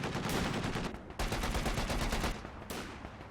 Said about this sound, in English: the flak cannon doesn't have to rotate before it starts shooting